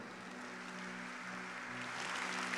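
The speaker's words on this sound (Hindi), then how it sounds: "हमारे मोदी जी की तालियां बजा रहे हैं वहां पे।" Crowd applause from a played recording of a parliamentary budget announcement, a steady, faint, distant wash of clapping with a low hum beneath, building slightly toward the end without any voice over it.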